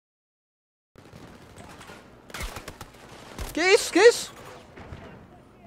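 A gun in semi-automatic mode fires in Battlefield 2042, a few separate sharp shots spaced apart amid game ambience, with a voice speaking briefly between them.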